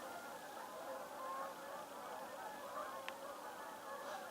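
Geese honking at a distance over a steady wash of background noise, with faint voices mixed in.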